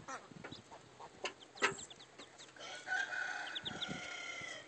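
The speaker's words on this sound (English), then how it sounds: "These chickens are in the way." Chickens near a nest cluck and crow faintly in short scattered calls, with a louder squawk partway through and a denser burst of clucking toward the end.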